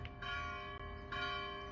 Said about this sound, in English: church bells going on.